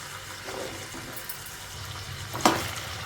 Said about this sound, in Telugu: ఇప్పుడు ఈ బంగాళాదుంప ముక్కల్ని కొన్ని వేసుకుంటూ మీడియం ఫ్లేమ్కి హై ఫ్లేమ్కి అడ్జస్ట్ చేసుకుంటూ క్రిస్పీగా వచ్చేటట్లు, అంటే మంచి కలర్ వచ్చే వరకు ఫ్రై చేసుకోవాలండి